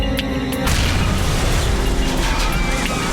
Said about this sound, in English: The explosion on board cripples the flight control system.